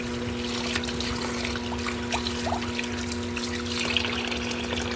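Fish being rinsed in water, with a soft steady trickle and splash running continuously under a low mechanical hum, no talking.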